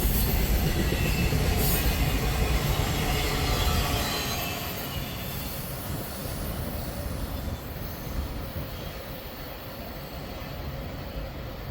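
A train rumbles past close by, loud and continuous with rattling wheels and a faint squeal, easing slightly as it moves on.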